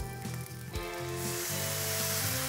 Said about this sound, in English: But when you pour it in, this gives you a beautiful sizzle.